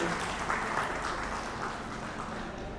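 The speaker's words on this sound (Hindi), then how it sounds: "Can we have huge applause for the special personalities, everyone?" Steady, dense applause from an audience at an award ceremony, continuous and fairly loud throughout with no pause.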